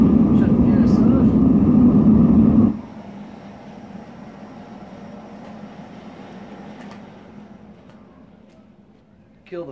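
A gas furnace and its fan roar loudly during a burn on an S&G 831 lock, a heavy low rushing drone that abruptly drops off after three seconds, leaving a quieter fan hum that fades.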